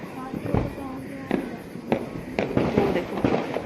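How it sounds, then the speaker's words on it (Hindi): Diwali firecrackers burst one after another at an outdoor celebration, sharp bangs of varying loudness roughly every half second, some near and some farther off, over a background of voices. "सब जगह सबको पटाखों की आवाज आएगी,"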